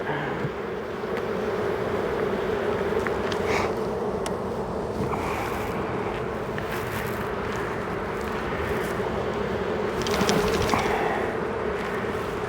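Honeybees buzz in a steady, dense drone while frames are lifted out of the hive during an inspection, close and continuous, with a few louder passes near the end.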